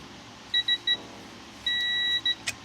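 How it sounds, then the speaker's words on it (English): A digital torque tool beeps while a diff brace is torqued down on a G35, three short electronic beeps, then one long sustained beep followed by two quicker short ones, close and clear with no talk. "I'm gonna wait to hear that longer beep, and we know that we're there."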